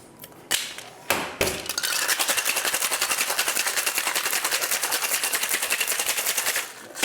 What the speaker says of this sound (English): Shake it all up, let it get to know each other.